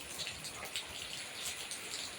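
Steady rain falls in a dense, even hiss with scattered patters of individual drops, close and continuous, with no voices.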